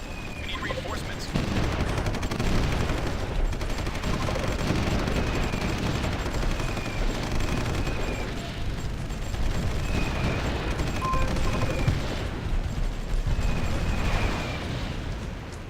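Missile strikes and battle fire in the strategy war game Supreme Ruler Ultimate: a dense, continuous rumble of explosions and gunfire, steady and loud with repeated whistling streaks over the din.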